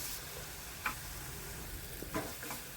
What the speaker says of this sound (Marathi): एक वाटी बारीक चिरलेलं टोमॅटो टाकलेला आहे तोही छान व्यवस्थित परतून घ्यायचा तेलामध्ये मऊ होईपर्यंत